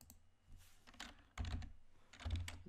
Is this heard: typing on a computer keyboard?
yes